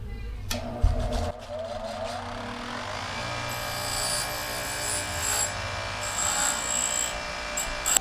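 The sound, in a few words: grinding wheel cleaning up metal parts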